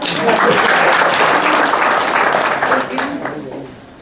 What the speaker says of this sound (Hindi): अपने खातिर ताली बजा लो।